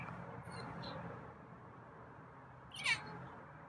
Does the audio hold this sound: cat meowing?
yes